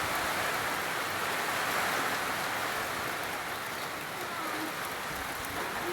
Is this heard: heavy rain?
yes